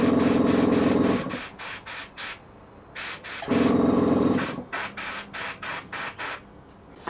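An airbrush sprays paint onto a painted miniature in short repeated bursts of hissing air, with two longer louder sprays and several quick pulses between them, close and clear with no talking.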